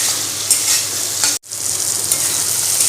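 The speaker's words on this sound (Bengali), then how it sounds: "এবার এটাকে ভালো করে নেড়ে ছেড়ে ভালো করে কিন্তু ভেজে নেব" Jute leaves stirred and frying in a pan with salt, a steady close sizzle with a brief dropout partway through, no voices.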